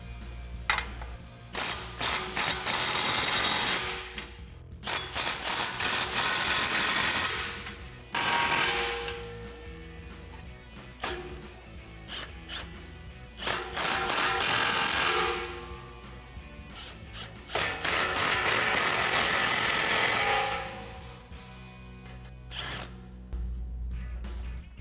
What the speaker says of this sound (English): We can go ahead, starting from the front, and tighten down our clamps using our 15mm socket.